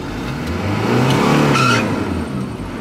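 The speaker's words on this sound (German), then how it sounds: "Ich habe aufs Gas gedrückt." Car driven in Paraguay accelerating as the gas pedal is pressed, the engine note swelling and rising over a few seconds, close and fairly loud, with no voices.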